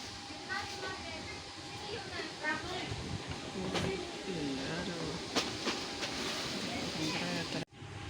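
Interior of an economy-class passenger train travelling between Palembang and Lampung in Indonesia, a steady rumbling hiss of the moving carriage with occasional sharp clacks and a brief sudden drop near the end.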